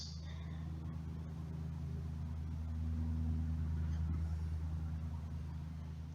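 A Signal Deluxe (Mixer) 16-inch oscillating electric fan motor running on a test after rewiring, a steady low hum with a faint whir, continuous and close, with no talking over it.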